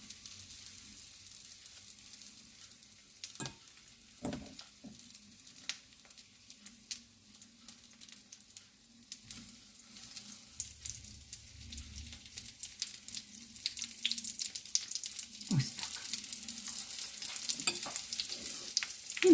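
Quiet, steady sizzling of battered eggplant cutlets frying in a hot pan, with occasional soft pops and clinks, no voices.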